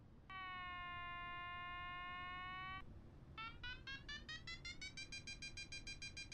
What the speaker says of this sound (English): Those beeps are annoying, but at least you can tell you're climbing